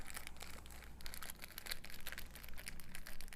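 A water-filled plastic bag inside a jar is sealed up close, giving a steady run of soft crinkling and rustling plastic with small repeated crackles, no voices.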